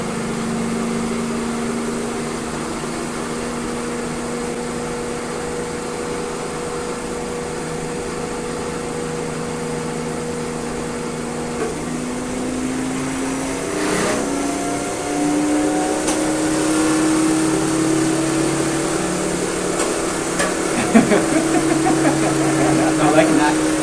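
A DC motor spins faster as its field winding is turned up, its steady whine climbing in pitch and growing a little louder over about twenty seconds, with a voice talking over it.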